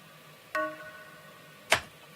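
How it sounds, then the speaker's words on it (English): Marimba plays as part of a K-pop production, with two short, woody struck notes about a second apart, each a quick clear attack with a brief decay over a quiet background. "I've added marimba all the way to the left,"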